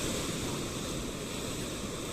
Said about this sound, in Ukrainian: Мабуть закривши очі, послухати цей океан, дійсно можна себе уявити на березі оцього тепленького пляжу